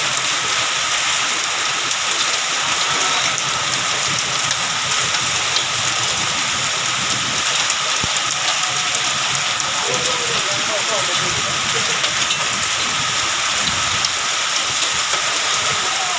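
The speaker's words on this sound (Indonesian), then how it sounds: "Hujan es." Hail falling in a windy storm in Surabaya, a dense continuous clatter of pellets striking surfaces that stays loud and steady, with faint voices in the background.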